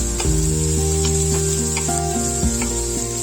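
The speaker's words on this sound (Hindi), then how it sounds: "अब हम 2 कटे हुए प्याज डालेंगे और इसे अच्छी तरह से फ्राई करेंगे।" Two chopped onions hitting hot oil in a pan give a loud, steady close-up sizzle with a constant hiss throughout.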